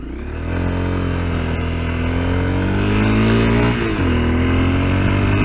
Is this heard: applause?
no